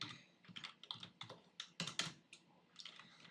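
Computer keyboard clatters as HTML and CSS code is typed for a responsive website, a quick irregular run of close, crisp keystrokes with short pauses, no talking.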